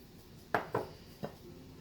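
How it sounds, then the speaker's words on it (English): A few light clinks of a utensil against a mixing bowl while spinach, onion, beetroot and spices are combined for poori dough, three separate taps, close and fairly quiet. "So now we're going to mix all these ingredients in a bowl"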